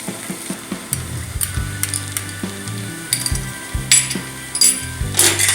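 Spices including turmeric and Kashmiri chilies are stirred in a hot pan for pulao, with steady sizzling and repeated scraping and clinking of a utensil against the pan, close and fairly loud.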